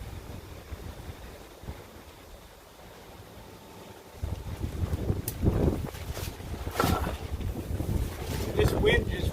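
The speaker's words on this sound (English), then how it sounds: "This wind just will not quit." Strong wind blowing outdoors, a rough low rumble of gusts buffeting the microphone that grows louder and more forceful partway through.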